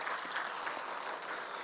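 A church congregation applauds together during a Korean worship service, producing a dense, steady wash of clapping that holds at an even level throughout with no voices on top.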